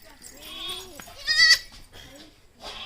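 A baby goat bleats nearby, a few short wavering cries spaced across a couple of seconds in an otherwise quiet setting.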